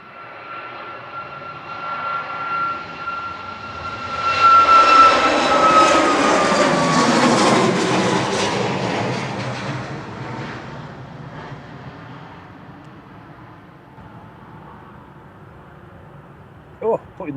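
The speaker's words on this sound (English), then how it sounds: "Probably a Ryanair to Alicante in the background that's on the roll now." A Ryanair jet airliner on its takeoff roll at Manchester Airport, a broad roaring engine rumble that swells over several seconds, peaks and then slowly fades into the distance, heard from afar under background ambience with people talking.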